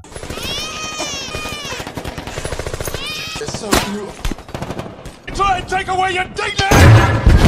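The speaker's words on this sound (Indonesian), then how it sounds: "pria itu yang menodongkan senjata sambil menembak anggota militer." Film gunfire from a man firing at soldiers rattles in rapid bursts and single cracks, loud and close, mixed with shouting voices and tense soundtrack noise.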